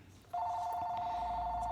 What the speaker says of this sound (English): Jeez, the phone's ringing.